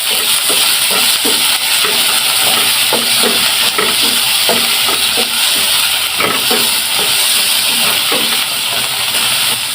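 Onion and tomato fry in a pan while being stirred, a steady close sizzle and hiss with scattered scraping and clinking strokes throughout, no talking.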